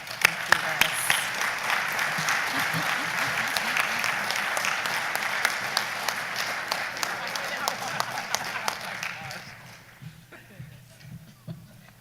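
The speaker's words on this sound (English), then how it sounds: "please give a warm round of applause" An audience at a Rotary Club speech competition finals gives a warm round of applause, dense steady clapping that fills the room before thinning into scattered claps and fading near the end.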